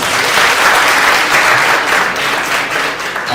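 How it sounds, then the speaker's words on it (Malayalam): A college audience at an intercollegiate speaking competition bursts into loud, sustained applause for a contestant, dense clapping that holds steady throughout. "അപ്പൊ ഒരു വലിയ കൈയടി."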